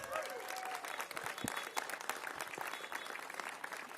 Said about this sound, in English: Let's give Mayor Lurie a big round of applause.